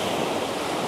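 Sea waves surging against a rock ledge on a grey day, a continuous loud wash of surf and water noise, close and unbroken, with some wind rumble and no voices.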